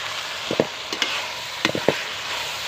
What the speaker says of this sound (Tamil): அதுலேயே இப்போ நம்ம இந்த குழம்புல ஊற்றிக்கலாம்